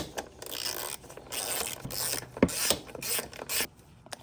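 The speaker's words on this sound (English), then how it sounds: "There's two screws on the side over here. We're gonna pull those off." Two size 10 screws being backed out on a Yamaha 700R ATV give a close, quiet run of ratcheting clicks and scraping mechanical rasps, broken by short pauses.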